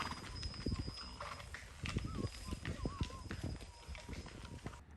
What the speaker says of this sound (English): Then we ran into the donkey transport team that is taking the supplies up to the refuge.